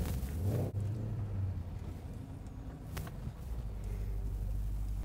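A 2016 Porsche Panamera GTS engine fires up, giving a deep, steady low rumble that swells briefly, then settles into a continuous idle, fairly faint and heard from a short distance.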